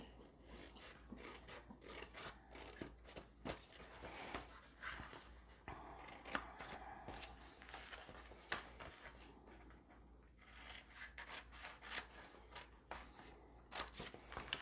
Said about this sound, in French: Je coupe sur les lignes de 3 pouces. Je la coupe complètement.